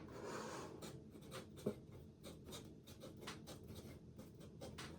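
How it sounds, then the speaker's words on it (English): A pen scratches initials onto a piece of artwork, producing quiet, close, rhythmic strokes and scrapes in short repeated bursts with no talking. "I have to put my initials on it."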